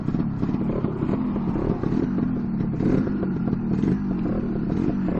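Lambretta S1 scooter engine on a shakedown ride, a loud, steady, close-up two-stroke drone with rattling clatter and slight rises in pitch as it pulls along the road.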